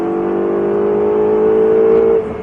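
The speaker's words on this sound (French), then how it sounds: "Allez, commence à accélérer ici." Ferrari 488 GTB accelerating hard on a race track, a loud rising engine whine held steady for about two seconds before easing off.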